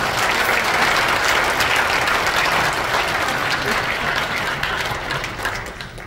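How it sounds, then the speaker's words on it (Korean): A church congregation in the main sanctuary of Immanuel Church, at a joint worship service commemorating the Korean War, gives a pastor a welcome with loud, dense applause that holds steady for several seconds and thins slightly at the end. "박수로 환영하십니다."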